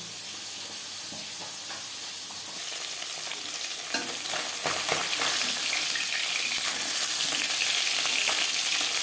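Koi fish fries in oil in a pan, a steady close sizzle and hiss that grows louder after a clattering flip midway, with bursts of spattering throughout.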